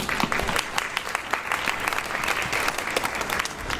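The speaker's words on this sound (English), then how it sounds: "Round of applause for all the contestants, finalists." An audience at a psychiatry innovation pitch event bursts into steady, dense applause after the finalists' pitches, many hands clapping close and fairly loud with no voices standing out.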